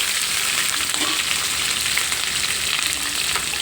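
Rice sizzles and fries in a pan with onion and green chillies, a loud, steady crackling hiss that runs throughout with faint stirring sounds and no one speaking.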